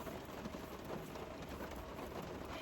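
Steady rain patters softly and evenly without a break, a faint continuous hiss of drops falling in a desert area.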